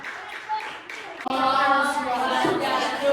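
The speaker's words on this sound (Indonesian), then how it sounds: "Tepuk tangan dulu untuk diskusi pertama" Schoolchildren in a classroom clap together after a group discussion, a brief scattered patter giving way to louder, fuller applause mixed with young voices.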